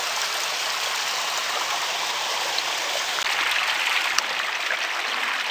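A creek flows nearby in a continuous, broad rushing wash of water, steady and fairly loud throughout with no voices.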